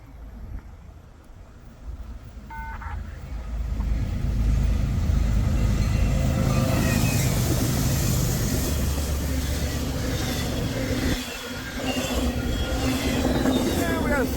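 A westbound CSX freight train draws closer during a snowstorm in Berea, Ohio, its broad low rumble swelling after a few seconds and holding steady and loud to the end, with a brief dip near the close.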